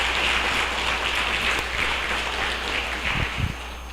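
A congregation at a prayer group meeting applauds the Gospel reading with steady sustained clapping that holds at an even level throughout, with a few low thumps near the end.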